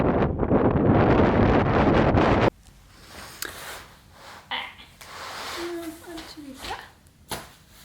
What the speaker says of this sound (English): Wow, that was windy.